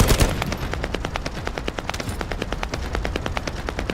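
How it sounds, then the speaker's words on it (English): Rapid automatic gunfire from The First Descendant video game crackles in dense, fast bursts, a near-continuous volley of sharp shots with a few heavier thumps early on. "There's so much gunfire."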